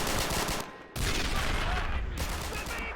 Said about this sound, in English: Lay down covering fire for our boys. Germans firing back.